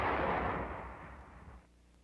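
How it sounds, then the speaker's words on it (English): A wartime mortar fired by an infantry support crew during the winter fighting in Alsace, 1945, gives a loud single report whose rumble fades over about two seconds, with no voices. "10mm mortar crews supporting the infantry early in February during the elimination of the German salient in the vicinity of Agno."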